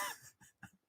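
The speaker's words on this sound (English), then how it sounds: "I'm coughing." A person gives one sharp cough followed by two smaller, softer coughs, all within under a second and fairly quiet.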